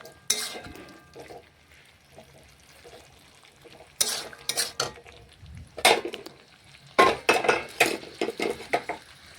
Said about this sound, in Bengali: নাড়াচাড়া করে দেখুন কড়ার মধ্যে জলটা একটু শুকিয়ে নিচ্ছি